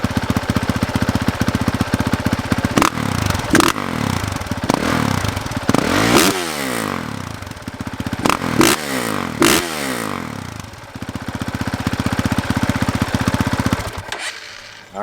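Honda CRF450 dirt bike with no muffler, loud and close, blipped through a series of sharp revs that rise and fall over a rough idle, harsh and rapping throughout.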